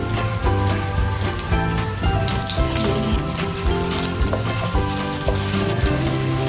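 Onion and garlic frying in a pan for chicken cooked in coconut milk with papaya, a steady close sizzle with faint stirring clinks, heard alone without talk.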